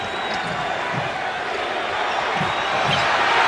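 An NBA basketball arena crowd on its feet cheering late in a Detroit versus Lakers finals game, a broad sustained roar with scattered thuds, loud and enveloping, with a commentator talking over it.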